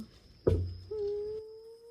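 A cat, probably at a forest temple in Ubon Ratchathani, gives one short close meow-like cry after a thump, followed by a steady tone.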